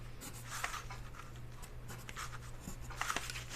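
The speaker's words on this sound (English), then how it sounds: "let's draw the seam line on here" A pen or marker scratches along a ruler, drawing a seam line on a paper sewing pattern, with soft intermittent strokes and taps close up over a low steady hum in a quiet room.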